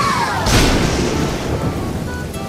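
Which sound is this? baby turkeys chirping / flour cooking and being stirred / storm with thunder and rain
storm with thunder and rain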